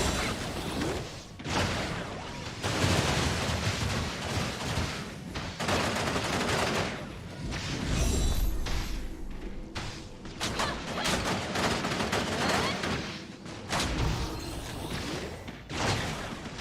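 Continuous heavy gunfire from the Tower of Fantasy video game, dense rapid shots and booming impacts running throughout with little pause and no talk.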